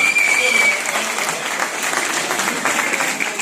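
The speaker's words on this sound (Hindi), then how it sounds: "तो एक बार दोनों भाइयों के लिए तालियां बजा दो" Audience applause at a network marketing training event, sustained dense clapping from a crowd for a few seconds, with a voice speaking over it.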